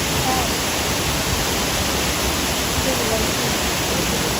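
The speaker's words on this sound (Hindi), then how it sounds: "तो दोस्तों कैसा लगा आपको ये कॉर्बेट वाटरफॉल?" Corbett Waterfall in Jim Corbett National Park pours in a steady, dense roar of falling water, loud and unbroken throughout, with no talk over it.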